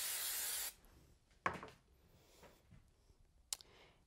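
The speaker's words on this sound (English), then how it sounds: "So I'm going to spray the back of this one with some glue." A loud, steady hiss of spray glue from an aerosol can onto the back of a craft piece opens the clip for about half a second, followed by quiet handling noises and a couple of soft taps.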